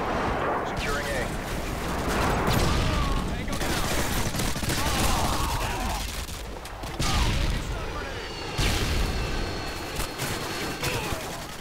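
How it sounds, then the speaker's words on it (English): Hip-fired gunfire from Call of Duty: Modern Warfare on Xbox 360, loud dense bursts of automatic shots running through most of the stretch amid game battle noise. "Just start hip firing all these bastards."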